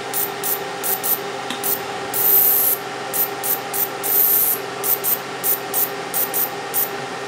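A 10-watt Nd:YAG pulsed laser module engraves an aluminum plate at near maximum power, giving repeated short hissing bursts in a steady rhythm over a constant low hum.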